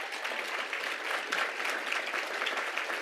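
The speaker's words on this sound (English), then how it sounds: "Let's give them a round of applause." A short burst of audience applause at an awards show, an even wash of many hands clapping at moderate volume, heard from a slight distance.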